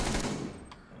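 A short burst of rapid gunshots in Rainbow Six Siege, loud and close, fading into a quieter tail with one faint later hit.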